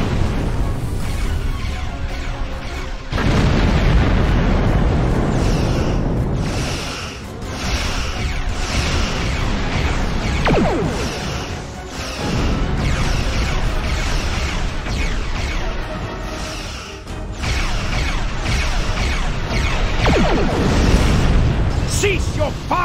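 Weapons fire in a Star Trek audio drama rolls as continuous heavy booming explosions and rumbling blasts, loud and sustained with brief lulls, under dramatic voices.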